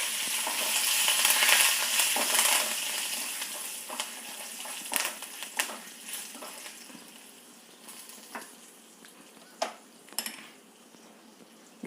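Dried red chillies, asafoetida and curry leaves sizzle and crackle in a hot pan, a loud bright frying hiss at first that softens, with occasional sharp pops and spoon clinks against the pan.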